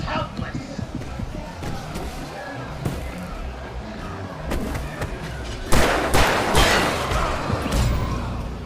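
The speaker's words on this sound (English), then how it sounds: "Lots of fireworks here." Fireworks boom and crackle in the video game Alan Wake, with scattered dull thuds and then a louder run of sharp bursts near the end, over game ambience and a voice speaking.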